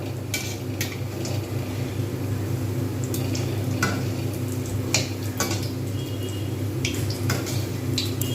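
Pumpkin flower fritters fry in oil on a medium-low flame, giving a steady, close crackling sizzle with scattered sharper pops and a constant low hum underneath.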